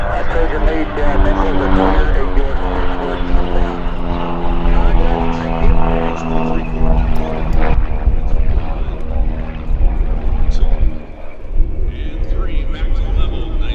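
Propeller engine of an aerobatic airplane at the EAA AirVenture Oshkosh airshow, droning loud and steady as it pulls vertically and pivots over the top, with a commentator talking over it throughout.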